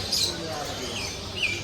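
A caged bird in a Kuwait pet shop gives a couple of thin, high chirps, one early and one near the end, heard faintly over shop background noise.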